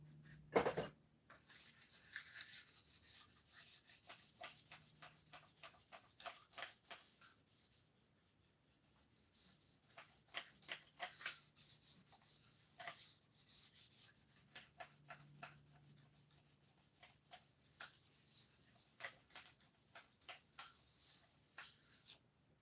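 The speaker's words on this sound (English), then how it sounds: "So if anything, I'm cleaning and polishing it." Quiet, steady rubbing and polishing of a ZR600 motorcycle part by hand, with repeated soft strokes and small ticks over a faint hiss, close and low in level.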